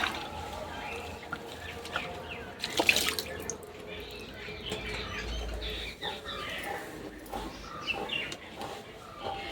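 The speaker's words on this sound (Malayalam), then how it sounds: "ഞാൻ കുറച്ച് പച്ചവെള്ളം കൂടി ഒഴിച്ച് കൊടുക്കുന്നു" Cold water is poured into a basin of hot water for a foot soak, a short burst of pouring and splashing amid quieter trickles, with birds faintly in the background.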